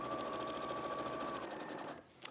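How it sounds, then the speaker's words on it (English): Sewing machine stitching steadily through thick layers of fabric, a fast even mechanical whir running for about two seconds before stopping, followed by a brief click. "It's just a different way of sewing with those thicker layers that you might not necessarily sew with as usual."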